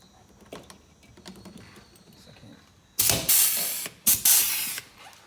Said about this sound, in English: Hopefully I can get the rivet gun in